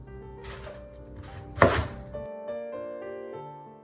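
A knife chops through a cabbage on a board as it is cut into quarters, one sharp, loud cut at close range against a quiet background with light music.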